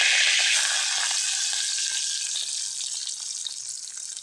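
Hot oil sizzling steadily in a pan while cooking a ridge gourd gravy, a close, bright continuous hiss that slowly fades, with no talking.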